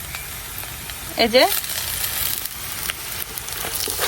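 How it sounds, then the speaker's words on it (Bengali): Hidol, a fermented fish, sizzles in a pan with lightly fried onion and garlic. The frying stays steady and close, with stirring scrapes. A voice speaks briefly, and a short whistle-like sweep rises near the start. "পেঁয়াজ আর রসুনের সাথে আমি হিদলগুলার একটু ভাজা নিছি"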